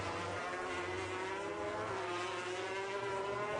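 Jorge Lorenzo's MotoGP race motorcycle laps Sepang during free practice in 2015, its engine note a steady high whine that slowly climbs in pitch, heard continuously without pause.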